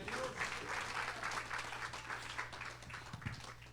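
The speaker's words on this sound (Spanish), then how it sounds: "Un aplauso al Señor." A church congregation applauds during a sermon, a sustained, moderately distant round of clapping from a crowd with a low hum underneath, steady throughout.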